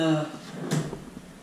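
A drawer in the bed cabinet of a renovated one-bedroom condo unit slides open or shut with one short, soft knock, heard under ongoing talk in the room.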